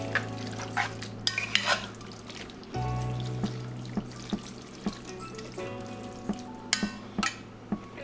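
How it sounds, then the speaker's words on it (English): Homemade chili with chicken stock being stirred in a pot, with wet sloshing, scraping and intermittent sharp clinks of a spoon against the pot, close up, with a low background hum and no talking. "And now we're gonna mix all those flavors together."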